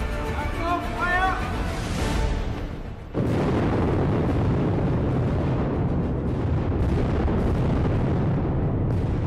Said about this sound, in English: Blast triggered.